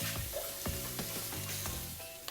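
Chopped shallots sizzle steadily in hot coconut oil with sharp crackles and a few stirring clinks, close and fairly loud, with no talking.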